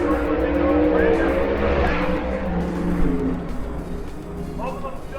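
Drag racing cars run at full throttle at Sick Week in Gainesville, their engines a loud, sustained roar that slowly fades, with a commentator talking over it.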